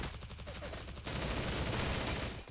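Rapid gunfire from a SIG SG 550 rifle in a video game, a dense burst of close, loud shots fired from the hip, running continuously with no pauses and no voices.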